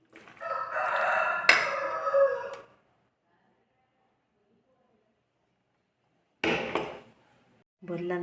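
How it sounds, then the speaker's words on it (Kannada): A big household rooster crows loudly and close by: one long crow, then a shorter one after a quiet gap, with voices around it. "ಕೋಳಿ ಬಂದಿದೆ ನಮ್ಮನೆ ಹುಂಜಣ್ಣ"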